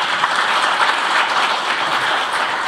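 An audience applauds at a Korean policy forum on veterans' compensation, with dense, steady clapping filling the whole stretch without pause.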